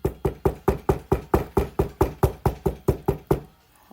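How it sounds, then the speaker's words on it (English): Knuckles knock steadily on a wooden desk, about fourteen evenly spaced, sharp, close raps in a quick rhythm before it falls silent. "Love doing that damn knocking on a damn desk."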